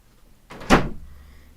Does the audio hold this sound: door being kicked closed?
yes